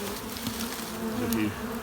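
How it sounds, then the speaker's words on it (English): A honeybee swarm hums inside a hive box outdoors, a dense steady buzz with shifting droning tones, close and moderately loud, with no talking. "the swarm is in the box"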